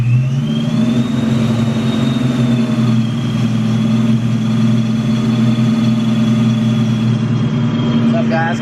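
A 1996 Mustang Cobra with a Vortech supercharger idles steadily after a clutch job, a close, continuous low engine drone with a faint high whine running throughout.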